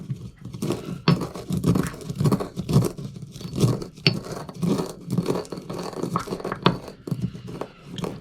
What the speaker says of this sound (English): we're just going to grind these up in the pestle and mortar